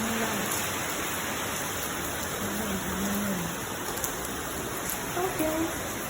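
Heavy rain falling steadily in Singapore, a dense continuous hiss with no break across the whole stretch, while a voice speaks faintly in the background.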